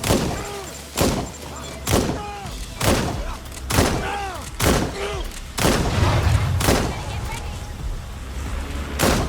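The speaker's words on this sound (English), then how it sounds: "Shots fired!" Gunfire in the video game Watch Dogs: Legion: a string of loud, close sharp shots, roughly one every second, each ringing out with a short tail, over a steady background of game ambience.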